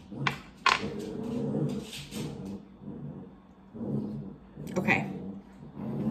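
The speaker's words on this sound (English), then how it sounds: "excuse the puppies. I can't believe how they're playing like that" Young puppies growl and tussle in play, with low rumbling growls, yips and scuffling bursts coming and going close by over several seconds.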